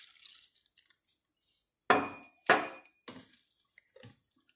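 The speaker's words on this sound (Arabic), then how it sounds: "نديرو كاس ونصف من الماء الدافي." Warm water poured into a qatayef batter mix comes through as a few short, splashy bursts, close and fairly quiet, with near silence between them and no talking.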